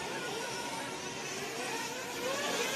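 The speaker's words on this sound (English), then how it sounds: "The military jet's just so noisy" A military jet roars overhead at an off-road model car racing event, a broad, steady, fairly faint rushing roar that swells slightly toward the end, with no talk.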